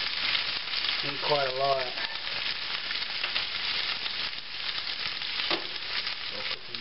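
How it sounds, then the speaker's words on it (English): Cabbage and Spam fry in a pan with a steady, close crackling sizzle throughout, while a person speaks briefly over it. "So, let this fry up a little bit."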